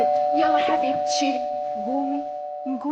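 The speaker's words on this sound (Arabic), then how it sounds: "هذا الجرس اندق" A home doorbell rings with a steady, sustained electronic chime tone through the whole stretch, moderately loud, while people talk over it.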